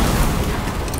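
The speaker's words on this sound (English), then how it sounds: "let's see the car explosion" A car explodes in Fortnite with a loud, dense boom that fills the moment and rumbles on without a break.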